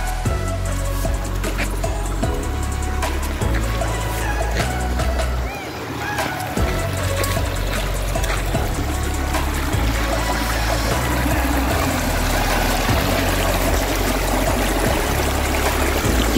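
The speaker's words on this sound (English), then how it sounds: "You can really hear the babbling of that brook." A babbling mountain brook running through a small gorge, heard as a steady, continuous rush of water that stays at an even level throughout, with a low, constant rumble underneath.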